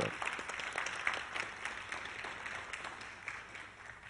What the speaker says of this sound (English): I think we should all applaud our own athletics director, Bridget Nyland, for her efforts.